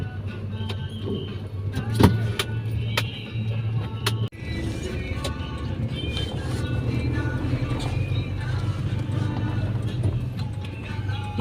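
Road traffic moves steadily past with vehicles rumbling nearby, broken by occasional sharp knocks and clicks, while people keep talking throughout.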